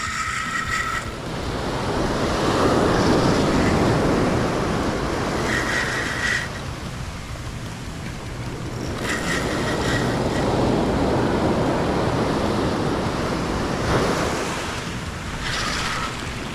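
Ocean waves breaking in shallow water along a Florida shore during the mullet run, a steady loud wash of surf that swells and recedes in long surges, with wind buffeting the microphone.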